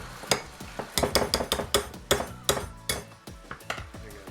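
A utensil stirs potatoes and cheese in a pan, giving a steady run of close, sharp scraping clinks and knocks in a quick uneven rhythm, with no voices.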